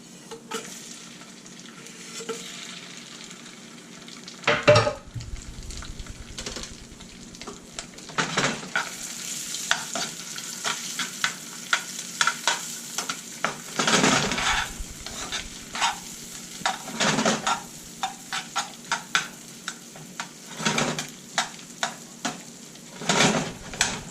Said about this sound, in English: Alright, so the lobster's going in.